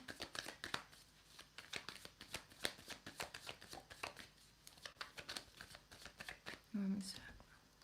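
Tarot cards being shuffled: soft, rapid riffling and flicking close by, with quiet talk running underneath throughout.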